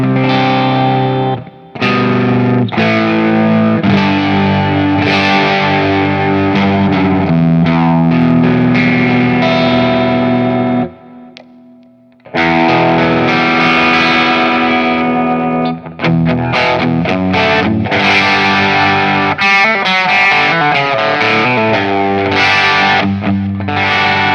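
A loud, heavily distorted electric guitar, a budget Telecaster-style build, plays sustained chords and riffs, pausing briefly twice, with no voices.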